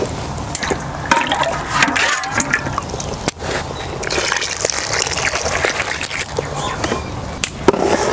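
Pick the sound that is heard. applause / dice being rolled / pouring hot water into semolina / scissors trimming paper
pouring hot water into semolina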